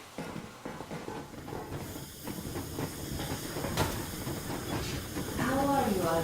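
A train locomotive gets moving in the video game Metro Exodus, with rumbling, hissing steam and rolling clatter building louder toward the end, while voices talk over it.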